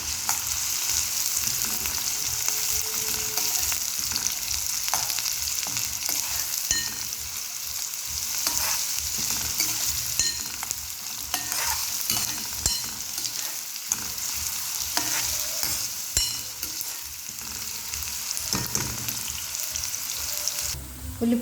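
Onions sizzle loudly in a pan for chicken curry with coconut and cashews, a constant hiss of frying broken by scraping and clinking as they are stirred.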